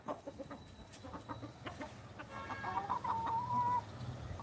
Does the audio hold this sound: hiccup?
no